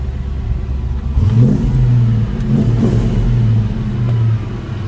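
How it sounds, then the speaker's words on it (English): A 1966 Ford Mustang Fastback engine revs up from idle with a deep, throaty exhaust rumble, rising and holding before easing back, loud and close. "You can hear a nice throaty exhaust."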